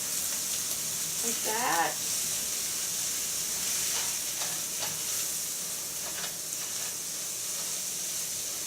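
A non-stick spatula folds an omelette in a non-stick pan over a steady hiss of sizzling, with a few soft scraping strokes and a brief voice early on.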